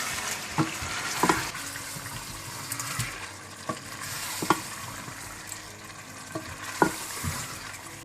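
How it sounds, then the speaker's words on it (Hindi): Chicken pieces sizzling in a pan with chilli spices, steady frying hiss punctuated by periodic scraping and clinking as a spoon stirs, close and moderately quiet. "चिकन को आपने अच्छी तरह से 15 मिनट के लिए भून लेना है।"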